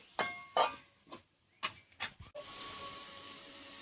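A few light clinks and taps of cookware ring out before a lid clanks down onto a pan of cauliflower simmering for a rohu fish posto dish, followed by a steady soft sizzle underneath.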